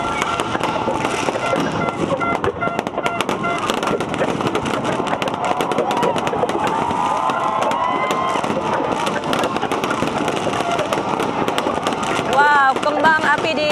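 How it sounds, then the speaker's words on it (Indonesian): New Year's fireworks over Bundaran HI roundabout in Jakarta, a dense continuous barrage of bursts and crackles with crowd noise mixed in, loud and steady throughout. "Kembang apinya semakin masif ya Wilson ya."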